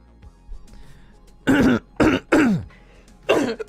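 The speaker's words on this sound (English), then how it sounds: "I don't like clearing my throat on the mic." Several loud, close throat clearings picked up on a microphone, four harsh bursts in quick succession with short pauses between them, heard alone with no talk.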